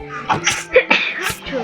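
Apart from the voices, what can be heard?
sneeze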